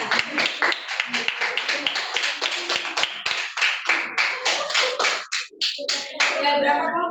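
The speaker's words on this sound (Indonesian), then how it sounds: "tepuk tangannya untuk kelompok hebat" A group claps rapidly and unevenly in a burst of applause, close and lively, with a few voices calling out near the end.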